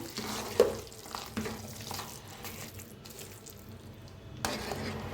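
A jaggery and lentil filling for puran poli being stirred as it cooks in a pan, soft wet scraping strokes with a low bubbling sizzle, faint and close.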